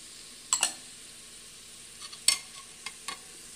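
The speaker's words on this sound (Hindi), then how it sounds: "अब इसको थोड़ा हम अच्छे से भून लेंगे, टमाटर भी गल जाएगा" Tomatoes with salt sautéing in a pan for black masoor dal: a few scattered spoon scrapes and stirs with light sizzling underneath, quiet overall.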